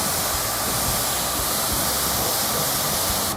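A pressure washer's short trigger gun spraying water with no nozzle fitted, used for rinsing a car: a steady, loud, close hiss and rush of water that holds constant and cuts off right at the end.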